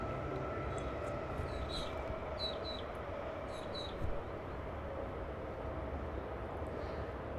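A nearby train passing sounds as a steady, broad rumbling roar that fills the whole stretch, with a few faint high chirps riding above it.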